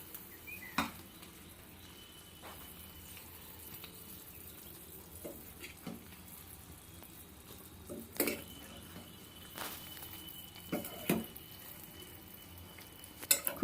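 Rustic jujube (kul) pickle simmers with a ground spice mix in a pan, giving a quiet, steady bubbling sizzle broken by a few sharp clinks and scrapes of a spoon stirring against the metal pan.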